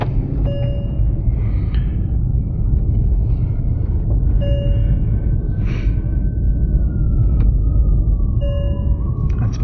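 A seatbelt warning chime inside a 2008 Mercedes-Benz S550 4Matic, short tonal beeps repeating at intervals over a loud, steady low engine and road rumble.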